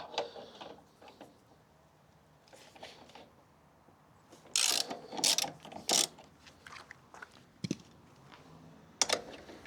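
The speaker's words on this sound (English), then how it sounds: "Now we need to unscrew this bolt, but just this one, and slightly lift our tank up." Metallic clicks and ratcheting from a wrench unscrewing a bolt on the fuel tank of a 2026 Honda CB125F motorcycle, quiet at first, then several sharp, louder bursts of tool noise with gaps between, no talking.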